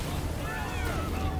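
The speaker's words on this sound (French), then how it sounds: "regardez l'explosion du bateau" A boat explodes in the PS5 game Spider-Man 2, giving a dense, sustained roaring rumble with a steady blast of noise throughout.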